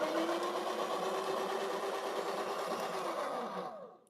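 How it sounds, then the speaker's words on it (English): A Breville Barista Express espresso machine's built-in coffee grinder runs with a steady, close whirring hum that holds even for about four seconds, then winds down and cuts off. "Make sure to run the grinder."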